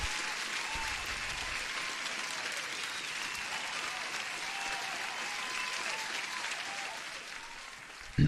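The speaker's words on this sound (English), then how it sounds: "let me give a proper applause for everyone here" Steady crowd-style applause played during a live day-trading stream to welcome a viewer, even and continuous at moderate level, ending with a brief click.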